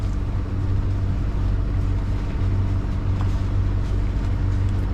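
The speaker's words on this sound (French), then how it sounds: "L'annexe avec 3 gros moteurs derrière là-bas." A boat engine drones low and steady at sea off Elba, Italy, a loud continuous motor rumble with no talking; the dinghy with three big outboard motors is not distinguishable from the vessel's own engine.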